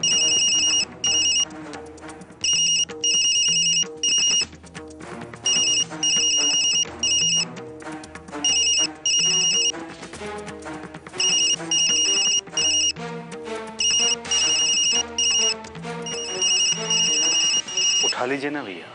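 A phone ringtone rings during a call in a Hindi TV serial scene, a loud repeating electronic melody in regular bursts that continues for the whole stretch with no talk over it.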